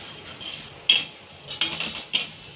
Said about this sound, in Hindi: इसी तरह चलाते हुए हमको कम से कम 5 मिनट तक भूनना है, अच्छे से घुमाते हुए।